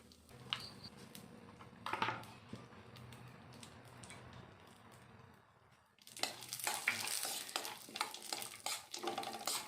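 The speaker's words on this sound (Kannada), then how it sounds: "ತಿರುಗಿಸ್ತಾ ಬಾದಾಮಿನ ಚೆನ್ನಾಗಿ ಫ್ರೈ ಮಾಡ್ಕೊಬೇಕಾಗುತ್ತೆ" Almonds stirred and fried in ghee for a dry fruit laddu, with quiet sizzling and soft scraping that swell into denser, louder stirring and frying in the second half, with no talk.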